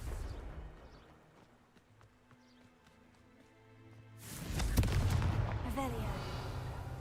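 A Confringo fire spell blasts in Hogwarts Legacy near a crumbling castle tower, a loud burst with a crackling roar that follows a quieter stretch of low rumbling game ambience.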